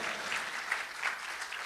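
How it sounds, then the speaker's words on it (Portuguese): Church congregation claps together in a steady, dense round of applause that fills the room, with no talk over it. "Já vamos dar uma salva de palmas para as três"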